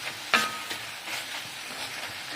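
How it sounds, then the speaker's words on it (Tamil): Brinjal and tomato sauteing in a pan, a soft steady sizzle with a sharp clink of a spoon near the start and light stirring scrapes throughout. "ஜோராக வதங்கிட்டு இருக்குங்க."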